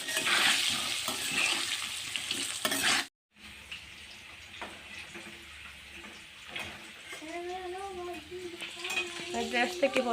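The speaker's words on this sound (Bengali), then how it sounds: "আমি আলুটা ভেজে নিচ্ছি, ভেজে আমি রান্নাটা করব" Potatoes frying in a home kitchen pan give a steady sizzle with stirring scrapes, broken by a brief cut near three seconds; a voice talks quietly partway through.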